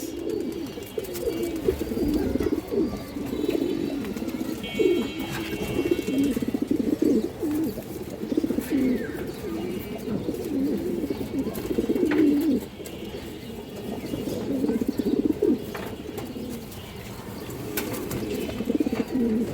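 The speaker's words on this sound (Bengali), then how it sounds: "দর্শক একটা নর কবুতর আছে এই যে দেখেন আপনারা অনেকে গেন্দা বলেন অথবা খাকিও বলেন" Male Gendha pigeons coo continuously at close range, producing a low, rolling, throaty murmur that repeats throughout over faint background noise.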